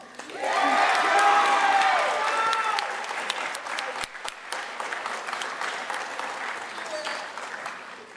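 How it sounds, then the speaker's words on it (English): Audience applause at a school band concert, a loud swell of clapping with a few cheers that gradually thins into scattered claps, with voices chattering underneath. "Please give a round of applause to Mr. Joseph Riley."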